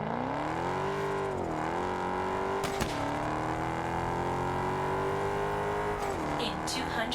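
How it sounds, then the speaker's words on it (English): Car engine in the Test Drive Unlimited Solar Crown racing game, droning steadily with rising and falling revs. Sharp backfire pops crackle around the midpoint and near the end, heard alone. "I like the backfire from the car though. That sounds pretty nice."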